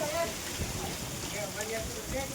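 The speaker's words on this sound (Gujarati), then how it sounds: "ભૂકા કાઢે છે વરસાદ ધોધમાર." Heavy downpour on a farm during sowing season, a dense steady hiss of rain pouring throughout, with voices talking faintly beneath the wash of water.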